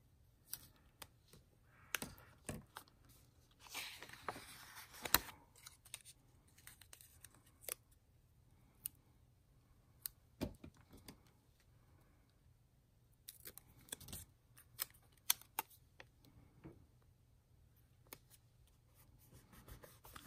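Scissors snip planner stickers in a quiet room with scattered crisp cuts and soft paper rustling at an unhurried pace, close and faint, without talk.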